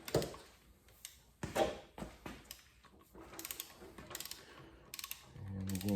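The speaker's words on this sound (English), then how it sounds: "these get torqued down to" Bolts are torqued on a Subaru WRX engine during a rebuild, using a wrench with a 14 mm Allen head: close metallic clicks and ratcheting in short irregular bursts, ending in a low mechanical hum.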